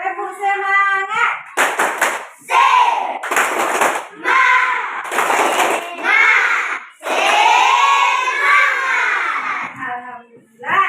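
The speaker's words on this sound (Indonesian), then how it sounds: "coba tepuk semangat dulu" Schoolchildren in a classroom perform a lively clapping chant, sharp rhythmic claps in quick bursts alternating with shouted group voices, close and loud throughout.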